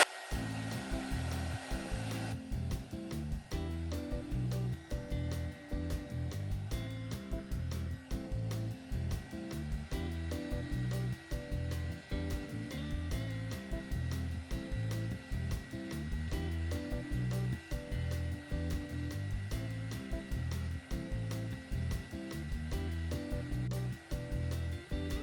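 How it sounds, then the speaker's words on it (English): A heat gun blows steadily on craft paint drying on a wooden nativity cross sign, a constant close whirring roar lasting throughout with no talk. "I'm going to hit it with the heat gun to just dry it a little quicker"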